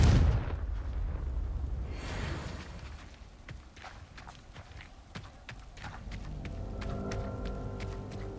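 A Confringo explosive spell in Hogwarts Legacy erupts in a heavy blast, and a run of sharp, rhythmic clacks and thuds follows, moving toward a lingering ringing tone at the end.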